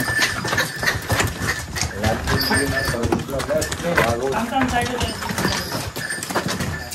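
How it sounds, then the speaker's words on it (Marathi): Pack donkeys carrying loads walk uphill on the trail at Raigad Fort in Maharashtra, their hooves clip-clopping steadily and close by beneath almost continuous talking. "गाडव चालल्यात वरती, ते पण सामान घेऊन चालल्यात"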